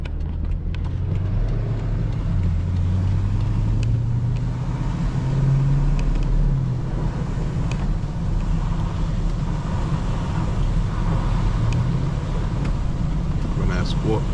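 A twin turbo V8 car drives along a snowy road, its engine a low steady drone with rising and falling pitch as it revs and loses traction, close and continuous.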